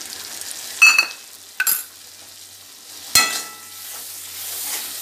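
A mixed spice paste hits hot oil with tomato in a pan, giving sharp bursts of sizzling at a few moments, with a spatter of hiss between them that fades to a soft, quieter sizzle, heard close with no talking.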